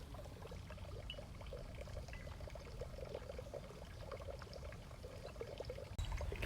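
A pond pump pours a steady stream of water through a funnel into a bucket outdoors, a continuous soft splashing trickle with no break.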